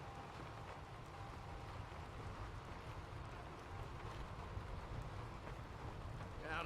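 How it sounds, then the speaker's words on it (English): Steady rain drums on the roof of a building in Skyrim, a continuous broadband patter with low rumble, moderately loud and unbroken, with no talking. "you can also hear the rain on top of the building"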